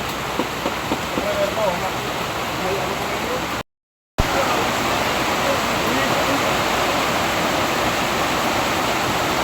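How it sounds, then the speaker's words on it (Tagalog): Heavy, nonstop rain at a mining site, a dense steady roar of downpour close by that cuts out briefly and then returns just as strong. "Lakas ng ulan dito sa site Lods. Grabe. Walang tigil ang ulan."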